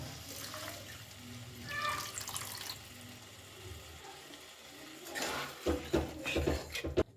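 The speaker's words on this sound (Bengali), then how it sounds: "আমি এর মধ্যে হাফ কাপ গরম জল ব্যবহার করব" Half a cup of hot water poured into a pan of fried duck eggs and potatoes cooking over a medium gas flame, a splashing pour that rises in two bursts amid background kitchen noise.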